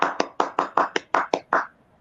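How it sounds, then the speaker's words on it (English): After a motivational talk by Miss UAE contestant Anam Sheikh, about eight distinct handclaps ring out at a brisk, slightly uneven pace, close and sparse, then fade into quiet. "let's give her a big round of applause"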